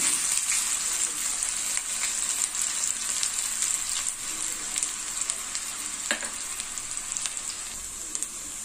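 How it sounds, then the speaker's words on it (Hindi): Onion and curry leaves fry in hot oil for a fish curry, giving a loud, bright continuous sizzle with sporadic pops and crackles close at hand. "प्याज और करी पत्ता डाला"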